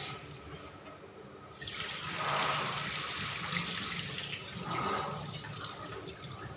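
Food being washed in water for a third rinse, with close sloshing and splashing that swells and fades, no voices over it.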